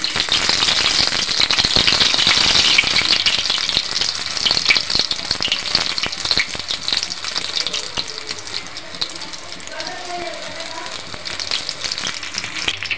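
Eggplant pakoras deep-frying in hot oil on a low flame, a loud, dense crackling sizzle that stays continuous and close, easing slightly toward the end.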